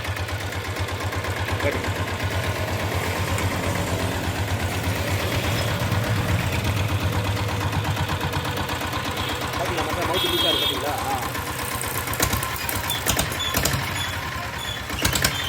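A diesel Bullet motorcycle fitted with an open silencer idles with a steady, chugging mid-low engine beat that runs throughout, with voices heard over it.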